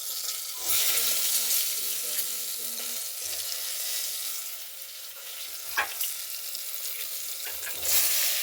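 Oil sizzling in a pan as whole stuffed brinjals cook for a Gujarati-style dish, a steady broad hiss with a few soft clatters and scrapes, no talking.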